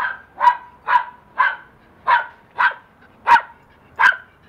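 A husky dog barks seven times in a steady, evenly spaced series, close and loud, with each bark short and bright and no talking alongside.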